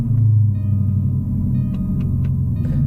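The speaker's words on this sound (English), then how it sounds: "Everybody got a little sound of your Jag firing up." A Jaguar car engine idling with a deep, steady low rumble just after firing up, heard up close with a few faint clicks over the top and no talking.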